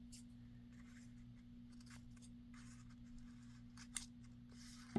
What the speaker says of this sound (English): Should have brought my other scissors in.